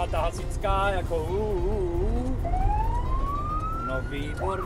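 A new fire engine in Doksy sounds its siren, a loud tone sweeping steadily upward and holding high, after a stretch of voices at the start.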